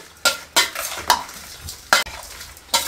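Spices being mixed into mango pickle in a bowl, a loud close scraping stir with several sharp knocks of the spoon at irregular intervals.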